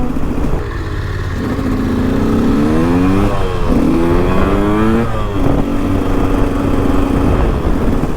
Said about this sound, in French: On va faire chauffer la moto tranquillement.